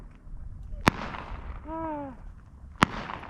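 Two sharp gunshots from a Smith & Wesson M&P15 AR pistol, spaced about two seconds apart, loud and close at an outdoor range with a voice briefly heard between them.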